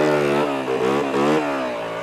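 Dirt bike engine revving up and down in quick surges, a buzzy close motor with rising and falling pitch sweeps over about two seconds, loud and alone without talk.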